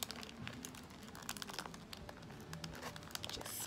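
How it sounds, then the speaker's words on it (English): Stiff glossy paper being folded and creased by hand, a close, quiet run of crinkles and sharp crackling snaps in irregular bursts. "This glossy paper is so stiff. And then I just like to fold it down like this."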